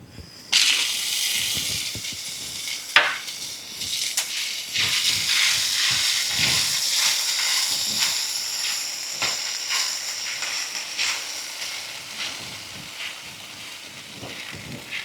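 Green chillies sizzle and hiss steadily in a hot pan as salt goes in, for a Guntur gongura pickle. The frying crackles close and continuous, with a few sharp pops, and no talk over it.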